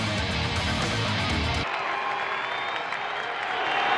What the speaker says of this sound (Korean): 위기에서 벗어나는 위현진 박수를 보내주는군요